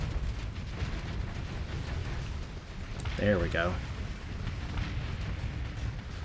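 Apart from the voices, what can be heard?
explosions in a space battle in the video game Starsector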